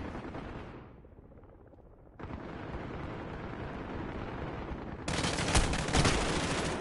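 Gunfire in the video game Modern Warfare, with an enemy gunner shooting at the player near a building, heard as dense, continuous rattling bursts and booms that grow louder toward the end.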